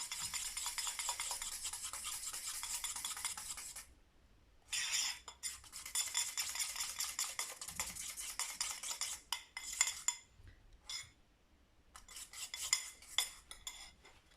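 A whisk scrapes and clinks rapidly against a bowl while beating a thick, glossy icing mixture for iced shortbread biscuits, in close, busy bursts separated by brief pauses.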